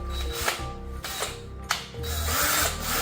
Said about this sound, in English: Now when you use this brush for the drill